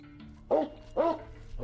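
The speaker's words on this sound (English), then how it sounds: "A Rottweiler aggressively approached the door, growling and barking, preventing entry." A Rottweiler barks at a door in three loud, close, separate woofs spaced about half a second apart. A low steady hum runs underneath.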